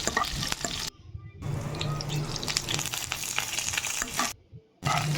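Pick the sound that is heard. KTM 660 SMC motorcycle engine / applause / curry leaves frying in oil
curry leaves frying in oil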